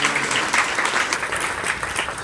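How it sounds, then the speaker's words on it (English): Audience clapping at a launch event, dense and lively applause with individual hand claps popping out of a steady wash, close and fairly loud for the whole stretch. "We get to clap and surprise him."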